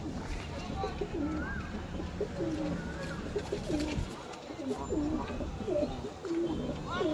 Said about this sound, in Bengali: দেখুন ওটা মেল পায়রা